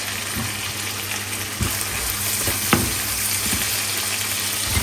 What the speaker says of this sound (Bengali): ভাজা হয়ে গেছে, এখন দিলাম একটু পেঁয়াজ